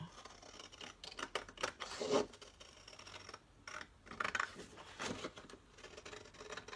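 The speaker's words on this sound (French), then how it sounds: "Je découpe." Scissors snip through fabric while cutting a circle for a shabby-style pouch, a close run of crisp clipping strokes with a short pause midway before the cutting resumes.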